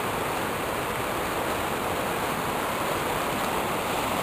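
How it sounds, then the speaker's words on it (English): A waterfall swollen with winter snowmelt runoff from the Adirondacks, on a river flowing toward Lake Champlain, roars as a steady, dense, unbroken rush of water, continuous and fairly loud with no voices. "There's the waterfall."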